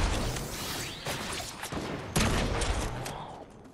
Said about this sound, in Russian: По мне кто стреляет? Кто стреляет?